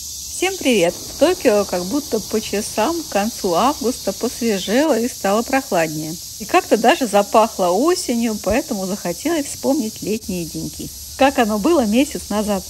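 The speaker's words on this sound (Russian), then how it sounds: "Пение цикад – это звуковое сопровождение лета в Токио." Cicadas sing in late summer in Tokyo, a steady high buzzing drone running throughout beneath a person talking continuously.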